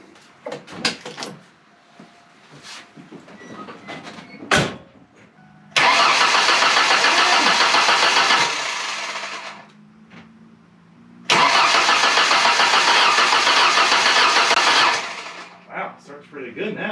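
A Ford Fox Body with a 2.3L turbo engine cranking and firing up twice, each start settling into a loud steady idle for a few seconds before shutting off, with clicks and handling noises between.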